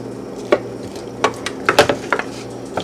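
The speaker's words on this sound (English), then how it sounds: "we will cover the pot" A lid goes onto a cooking pot of shrimp and broccoli with a handful of close, light clinks and taps of metal on metal, clustered over a few seconds.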